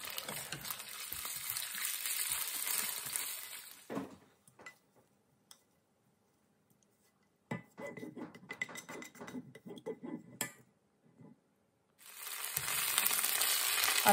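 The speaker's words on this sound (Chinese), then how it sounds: "炒一点肉丝，把它放进汤里。" Shredded pork stir-fries in a pan with a loud, steady sizzle that drops away to scattered scrapes and clinks of stirring, then returns at full strength near the end.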